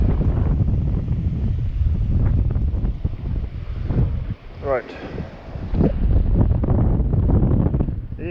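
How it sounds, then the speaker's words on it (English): Strong wind buffets the microphone in a steady, rumbling roar, with a brief spoken word and a few faint bird-like chirps. "Yeah, man, it's windy."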